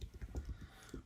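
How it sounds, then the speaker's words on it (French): Keys tapped on a computer keyboard while a web address is entered into a browser search bar, a quick, soft, irregular run of clicks that is fairly quiet and heard alone. "vous tapez sur votre barre de recherche"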